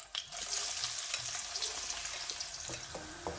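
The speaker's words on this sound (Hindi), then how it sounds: "तो इसी ऑयल में मैं इसको फ्राई कर लूँगी" Onions fry in hot oil, giving a steady close crackling sizzle with occasional stirring clicks and scrapes, no talking.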